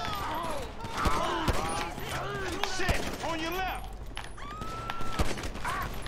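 Rapid bursts of gunfire in the video game GTA 5 during a mission shootout, sharp repeated shots over game music and effects while a player talks excitedly.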